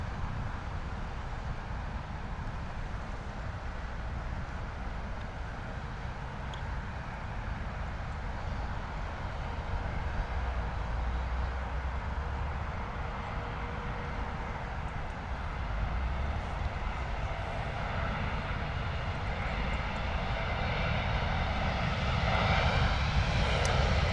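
A jet airliner arrives on runway 09 left at London Heathrow Airport, its engines a steady, broad roar that builds slowly and grows louder toward the end, with no talk over it.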